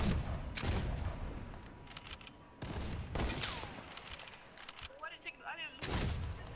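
Close-range shotgun-style blasts in a Fortnite match, several loud bursts spaced a second or two apart with short echoing tails, light player chatter in between.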